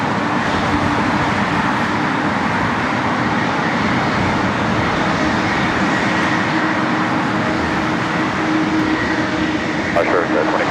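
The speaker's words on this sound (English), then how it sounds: "another heavy takeoff, Virgin Atlantic Flight 8, 787-9 at Dreamliner, heading back to London Heathrow" Virgin Atlantic Boeing 787-9 Dreamliner making a heavy takeoff at LAX, bound for London Heathrow: a loud, continuous broadband engine roar that holds steady throughout, with faint radio chatter underneath.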